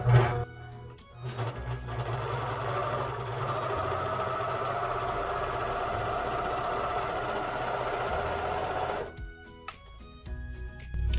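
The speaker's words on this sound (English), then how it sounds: "So you're just sewing right along the front edge, lining up the edge of the fabric with the edge on the serger." A serger runs along the front edge of a fleece bear hoodie, one steady whirring burst lasting about seven seconds with brief motor starts and stops at either end, close and alone.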